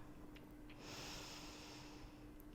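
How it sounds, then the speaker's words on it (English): A deep inhale through the nose during a standing yoga stretch, a soft, drawn-out breathing hiss lasting about a second and a half, close but faint against a quiet room hum. "Take a great big inhale."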